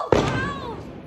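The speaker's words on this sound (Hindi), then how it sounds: "पटाखे फोड़ने" A single firecracker bursts at night during Diwali celebrations, one sharp close bang followed by a fading ringing tail, with no talk over it.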